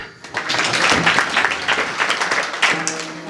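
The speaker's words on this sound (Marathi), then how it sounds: "टाळी वाजवा" An audience claps together at a devotional kirtan performance, loud sustained applause that swells and lasts several seconds, with a few voices mixed in.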